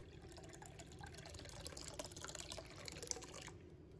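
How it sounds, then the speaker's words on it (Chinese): Water and beer poured into a large bowl in a kitchen, a steady faint splashing and trickling stream that runs throughout with small drips near the end. "接下来准备一个大碗，倒入半碗清水，再倒入小半碗啤酒"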